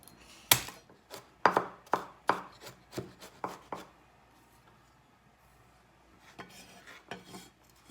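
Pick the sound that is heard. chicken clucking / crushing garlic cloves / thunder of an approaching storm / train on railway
crushing garlic cloves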